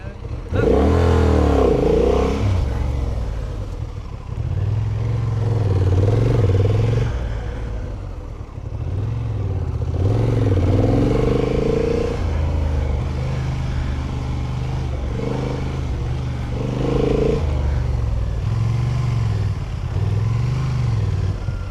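Motorcycle engine revving repeatedly during gymkhana riding, loud and close, rising and falling in bursts with brief pauses, while a voice talks faintly underneath.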